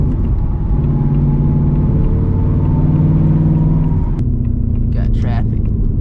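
Inside the gutted cabin of a Ford Mustang S650 GT, the V8 engine rumbles steadily and loudly while cruising, with a driver talking over the drone.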